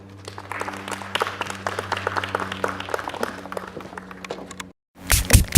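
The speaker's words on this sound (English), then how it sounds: "Let's give her a round of applause again." An audience applauds after a speech at a forum on electoral preparedness, a sustained patter of clapping over a steady low hum that abruptly cuts to near silence before a louder burst of noise returns.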